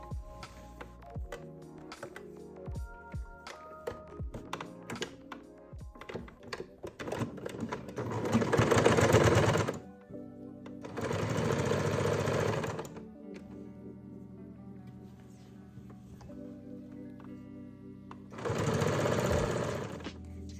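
Domestic sewing machine stitching binding along a quilt edge, with three loud bursts of rapid mechanical stitching separated by handling clicks and fabric rustle, close up.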